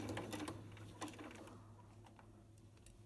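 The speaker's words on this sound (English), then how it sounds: "And I'm going to sew with my left hand." A sewing machine chain pieces a quilt block, with rapid rattling bursts of stitching at first that trail off into a quieter mechanical hum and a few light ticks.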